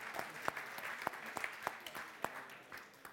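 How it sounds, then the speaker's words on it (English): Modest applause at a food and nutrition forum in Brussels, a thin scattering of claps with a few sharper ones standing out, quiet and somewhat distant, tapering off toward the end. "Give her a round of applause"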